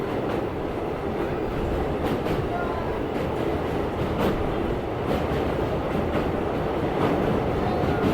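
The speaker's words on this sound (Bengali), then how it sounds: "প্রথমবারের জন্য এই ব্রিজের উপর দিয়ে যাচ্ছে প্যাসেঞ্জার ট্রেন" A passenger train rolls across the Nasipur rail bridge, a loud, continuous rumble with rhythmic clicking of wheels over rail joints heard close by throughout.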